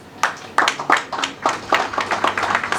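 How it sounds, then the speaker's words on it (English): An audience claps for a minister at a 50th birthday celebration, with scattered, moderately loud hand claps building into a short, steady round of applause. "Please give him a round of applause."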